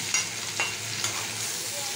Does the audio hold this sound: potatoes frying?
yes